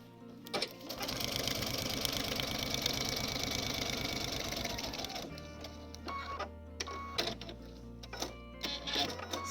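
A sewing machine runs steadily for about five seconds, stitching fabric along a marked line during foundation piecing for a quilt. Quieter handling noises and short clicks follow.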